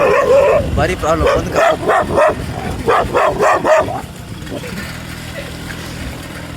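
Dogs bark repeatedly in loud overlapping bursts while a person talks over them, then the barking stops and only a low background hum remains.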